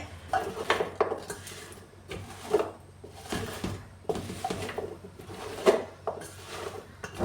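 Sharkara varatti, jaggery-coated fried banana pieces, being mixed in a wide vessel off the flame, giving repeated clattering scrapes and knocks of a utensil against the pot in an irregular rhythm, close and moderately loud.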